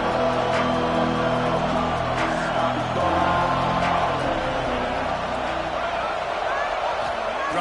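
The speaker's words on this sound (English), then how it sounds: "This crowd ready to make its presence known." Roaring football stadium crowd noise, loud and continuous, with a broadcast commentator speaking over the din throughout.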